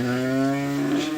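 A cow lets out a single long, deep moo close by, steady and loud for over a second, with no talking.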